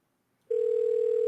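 Telephone tone on a live radio show: after a moment of silence, a single loud, steady electronic tone starts abruptly and holds unbroken to the end.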